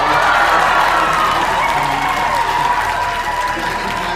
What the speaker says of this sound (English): it felt like everybody jumped out of their seats and was screaming and cheering